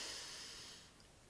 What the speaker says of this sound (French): On y va, j'inspire.